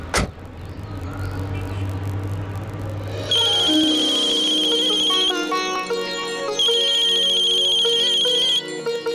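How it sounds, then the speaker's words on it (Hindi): A phone rings with a bright, repeating electronic melody that comes in pulses and keeps going, heard up close with no one speaking. "फोन बज रहा है आपका"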